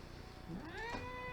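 A cat meows indoors with a rising, drawn-out call followed by a second wavering meow, close and moderately loud over a faint room hum.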